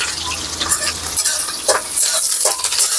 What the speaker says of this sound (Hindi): प्याज व्याज डाल रहे हैं। प्याज डालने के बाद थोड़ा चलाना पड़ता है इसको।